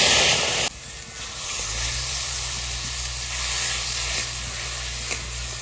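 Spice paste beaten with yogurt, with a pinch of asafoetida, dropped into a hot pan for Kashmiri aloo dum, bursting into a loud steady sizzle and hiss that settles into continuous frying with no talk.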